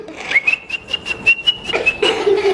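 A lively whistled melody imitating birds singing, with quick chirping pulses and a rising trill, close and clear with no talking.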